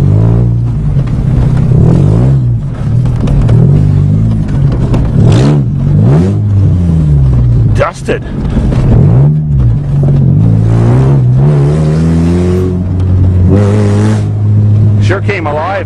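A 1997 Mazda Protege farm car with its exhaust removed revs loudly and repeatedly, the raw engine note rising and falling in close bursts throughout, with someone talking briefly over it.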